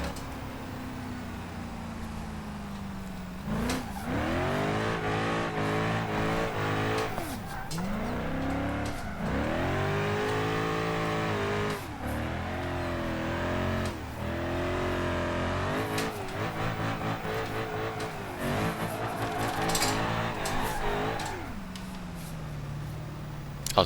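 A car drifts in the BeamNG Drive video game, its engine revving up and falling back repeatedly through sweeping pitch changes, with tire squeal mixed in, sustained and loud throughout.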